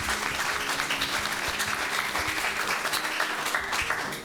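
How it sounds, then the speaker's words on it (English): A crowd at a women's forum in Vienna applauds steadily, dense clapping that holds at an even level from start to finish. "Let's welcome her with a warm applause."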